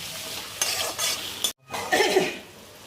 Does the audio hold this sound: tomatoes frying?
yes